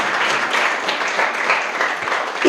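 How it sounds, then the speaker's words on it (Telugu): A congregation at a Sunday worship service breaks into sustained applause, a steady dense wash of clapping that stays fairly even throughout with no voices over it. "గట్టిగా చప్పట్లు కొడదాం ఒకసారి."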